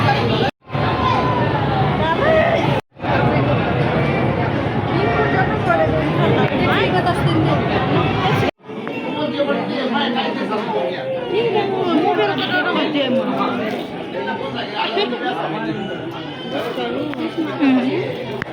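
A dense crowd chattering at the Ichha Devi temple, continuous close babble of many overlapping voices with a couple of brief cutouts and a slightly thinner stretch toward the end.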